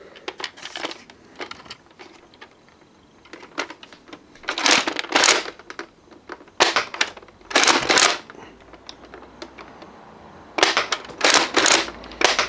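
Nerf Vortex Pyragon toy blaster worked in single fire, with bursts of plastic pump-action rattling and sharp clacking shots repeating in clusters, close and fairly loud over a quiet room.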